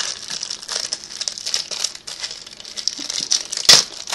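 A promo trading card pack's plastic wrapper being opened up close, with a run of crinkling and rustling that ends in a sharp, loud tear near the end.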